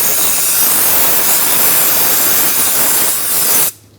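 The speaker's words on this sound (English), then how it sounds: "If you have access to compressed air, blow it a little bit." Compressed air blasts debris from around the rear axle and ABS wheel speed sensor of a 2003-2009 Dodge RAM 2500, a loud, close, continuous hiss lasting several seconds before cutting off abruptly.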